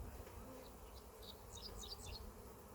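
Honeybees buzz around a growing backyard hive where comb is being built, a faint steady hum with scattered higher buzzes as individual bees fly close past the microphone, no voices.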